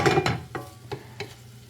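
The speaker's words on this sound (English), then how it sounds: "We're just gonna mix them right in here with the onions." Sliced garlic being stirred into frying onions in a pan, with a few short scraping stirs over a soft sizzle, close up.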